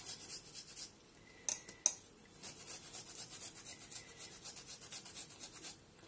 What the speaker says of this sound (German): Ingwer ist halt nun mal fasrig. Der wird nie ganz runter zu reiben gehen.